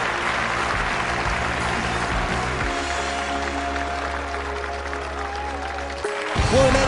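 A stadium crowd applauds in the London 2012 Olympic video game, a steady wash of clapping and cheering that holds throughout with low tones beneath.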